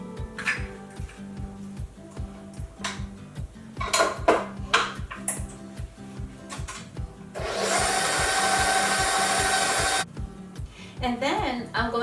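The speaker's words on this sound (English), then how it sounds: "Just going to mix this till it's nice and creamy" Waffle batter is mixed until creamy, with a rhythmic clinking and scraping of utensils against a bowl, then a loud steady whir of a mixer for a few seconds, with a voice heard at times.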